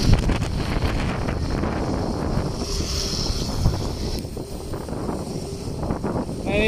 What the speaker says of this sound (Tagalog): kasi sobra talaga lakas ng hangin.